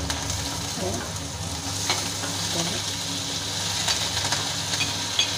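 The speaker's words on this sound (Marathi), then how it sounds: "कच्चा बटाटा आहे तर आपल्याला पहिला हा थोडासा तळून घ्यायला पाहिजे" Cumin and raw potato pieces frying in hot oil for sabudana khichdi, a steady close sizzle and hiss throughout with a few soft stirring scrapes.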